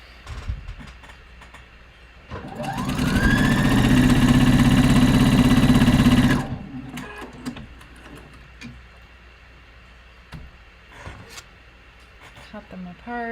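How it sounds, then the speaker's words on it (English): A sewing machine stitches straight over interfacing for a top, a loud steady motor hum that ramps up and runs for several seconds, then stops, followed by quieter handling sounds and faint talk. "I'm going to sew right over the interfacing"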